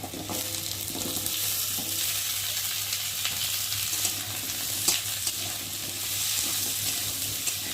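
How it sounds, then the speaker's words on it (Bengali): Steady sizzling of potatoes and onions frying in a pan, with occasional stirring scrapes, close and continuous without any talking. "এই যে কেটে রাখা আলুগুলোকে পেঁয়াজের সাথে একটু ভালো করে আবার ভেজে নেব"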